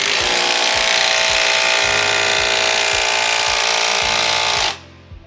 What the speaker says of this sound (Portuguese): Com o auxílio de uma parafusadeira e de uma chave, faça o aperto dos amortecedores